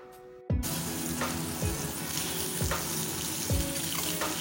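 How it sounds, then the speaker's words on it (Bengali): Boiled eggs, coated in spice mix, land in hot mustard oil in a wok and burst into a loud, steady frying sizzle. Periodic scraping stirs cut through the hiss, close and with no talking. "এবার আমি মাখানো সেদ্ধ ডিমগুলো দিয়ে দেব।"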